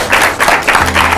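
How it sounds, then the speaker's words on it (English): An audience at a school quiz show claps in a short burst of applause, dense and close, lasting about a second. "I like that applause."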